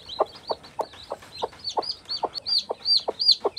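A mother hen clucks in a steady rhythm of short, close calls from a nest on a goat farm, with high peeping chicks chirping over the top throughout.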